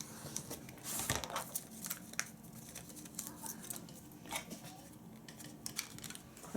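Scissors snip through paper while preparing homeschool reading lesson materials, a faint series of quiet crisp cuts and light rustling close by, with no talking.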